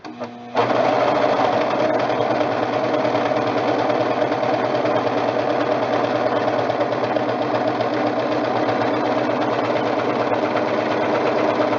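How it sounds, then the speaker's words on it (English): A Brother serger running a 4-thread ultra safety mock stitch starts up after a brief pause and hums steadily and loudly at a constant mechanical pace, with no talk over it. "I have this machine set up to run the same 4-thread Ultra Safety Mock Stitch"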